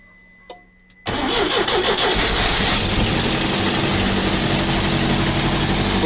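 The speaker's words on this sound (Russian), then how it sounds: "Нормально завелся." A UAZ engine with a new battery cranks briefly and catches, then settles into a loud, steady idle close by, alone after a short quiet start.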